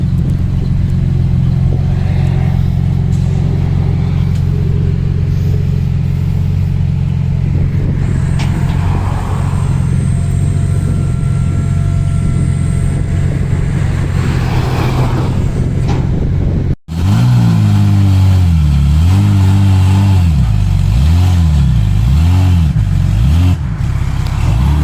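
A Toyota SC300 with a 2JZ engine rumbles loud and close for a long stretch, then after a brief break its engine rises and falls through several strong revs as it pulls away.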